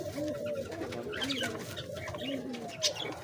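Rampuri pigeons coo in low, rolling repeated calls, close by, over a steady background hiss with faint chirps from other birds.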